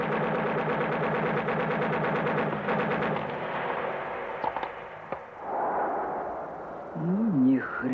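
Fireworks salute explosions in a 1991 Russian comedy film burst in a dense, rapid crackling volley that thins into scattered pops, followed by a voice near the end.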